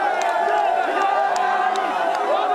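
A large crowd in Bambessa greets parliamentary candidate Aminata Namassi with a continuous roar of many voices and whoops, loud and steady throughout, with scattered sharp accents rising above the din.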